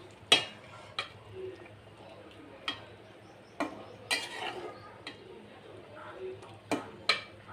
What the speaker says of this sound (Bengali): এখন এই যে আমি পুঁই শাকের পাতাটা দিয়ে দিব তরকারির মধ্যে।